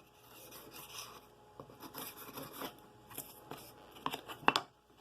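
Sharpened chisel paring wood on a propeller, giving soft scraping and rubbing strokes in an irregular rhythm, close and fairly quiet, with a few sharper cuts near the end.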